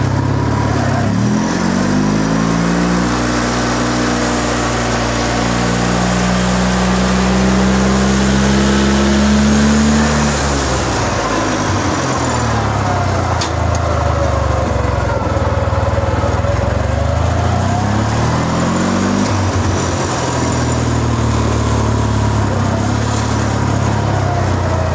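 KMZ-012 mini tractor engine working while clearing snow, a loud close mid-pitched engine drone that revs and labours, rising and falling in pitch as load changes, running continuously throughout with no speech.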